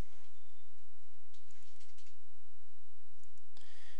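Computer mouse clicking on checkboxes beside addresses in a property records list, giving a few soft, sharp clicks in short clusters over quiet background hiss.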